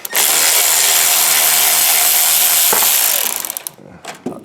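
A ratchet wrench loosens a 13mm bolt on the shifter cable bracket of a third-generation vehicle during a shifter install, giving a loud, steady, fast ratcheting whir for about three seconds before trailing off into a few short clicks.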